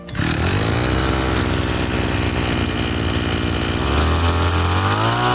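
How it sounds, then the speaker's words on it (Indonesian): A small fertilizer drenching pump engine starts abruptly and runs loud and steady, like a lawn mower motor, with its pitch shifting upward near the end. "Oke, langsung kita hidupkan mesinnya."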